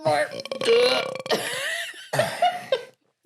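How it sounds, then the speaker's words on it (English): A loud, drawn-out burp rumbles after drinking a fizzy carbonated drink, followed by a second shorter belch, with voices talking and laughing around it. "All these bubbles are making me burp."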